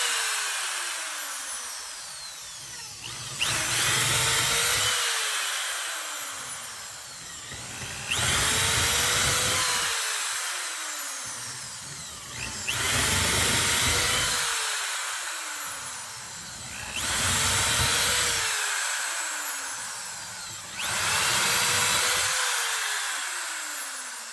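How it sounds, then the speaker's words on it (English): A power drill bores holes in a flatbed trailer being rebuilt. It whines up and runs in five long bursts separated by brief pauses, close and loud, with no talk. "Pre-drilling the holes, then tapping the bolts down in,"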